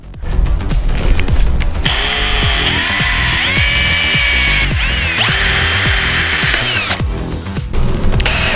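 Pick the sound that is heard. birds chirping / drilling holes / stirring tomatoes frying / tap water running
drilling holes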